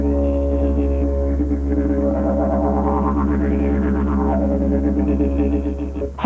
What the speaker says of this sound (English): Hard to imagine a computer replacing this instrument, called a didgeridoo, made from a termite-hollowed eucalyptus tree in Australia.